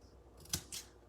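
Scissors snip paper while a Christmas card is being made. One sharp, close cut is quickly followed by a second, softer snip in a quiet room.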